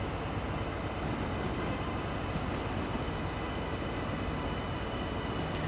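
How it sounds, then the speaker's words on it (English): Class 397 TransPennine Express electric multiple unit at Edinburgh Waverley station, a steady broadband rumble and hiss of the train running through the platform, continuous and fairly loud with no speech. "A 397, the Transpennine Express."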